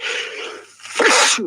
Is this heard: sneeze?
yes